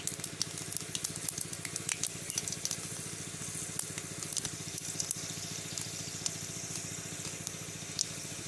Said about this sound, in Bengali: তেল দিলাম, এই পাঁচফোড়ন দিলাম